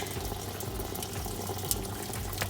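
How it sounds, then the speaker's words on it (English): Maple syrup runs from the tap of an evaporator in Ontario once the handle is opened, a continuous close splashing pour at even volume with no talk. "just gonna turn this handle on, and the sap is gonna come out. But it comes out as syrup"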